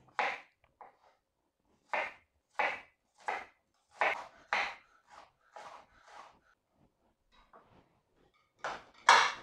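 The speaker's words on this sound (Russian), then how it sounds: "Далее нарезаем лук репчатый мелко-мелко, мелкими кубиками." Crisp knife strokes finely dice an onion against a cutting board in uneven bursts, a dozen or so close, sharp taps with short pauses between them.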